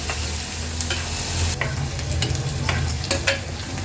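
Garlic cloves and finely chopped onion sizzle and fry in hot oil over a low flame, a steady dense crackle with occasional stirring scrapes and pan clinks throughout, close and fairly loud.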